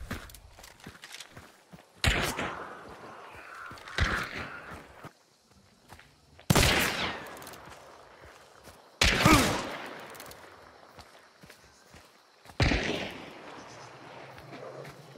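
Gunfire in the multiplayer shooter Hunt: Showdown: several sharp, loud shots spaced a few seconds apart, each with a short ringing tail, over quieter movement and footstep noise.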